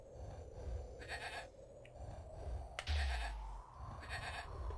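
Sheep bleating in the Amiga strategy game Powermonger, a few short wavering bleats heard over a steady low game rumble, with a louder thump partway through.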